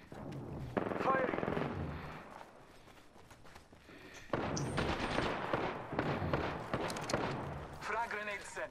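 Gunfire in the Apex Legends shooter game, rapid bursts of automatic shots in two loud stretches with a quieter gap between, and voices talking over the action.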